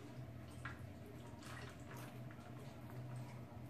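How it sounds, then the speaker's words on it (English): Marinade poured over pork tenderloin in a pan, a soft continuous liquid splash and trickle with faint drips, steady and low-level against a constant background hum, with no talking. "I'm going to pour about half of this marinade in there"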